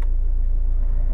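A Hyundai i20 Magna 2016 diesel car engine runs with a steady, loud, close low rumble throughout, with no other sounds over it.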